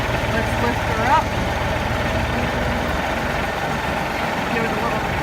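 A vehicle engine idles steadily and is given a little gas to lift a load of tools while goat fencing goes up outdoors. The rumble is continuous and close, with a voice talking over it.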